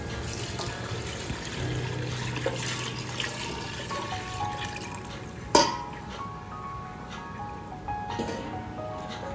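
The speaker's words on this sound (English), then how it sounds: "it's time to add the chicken stock and water." Chicken stock and water pour steadily into a cooking pot for chicken biriyani, a continuous splashing flow with a brief louder clunk midway.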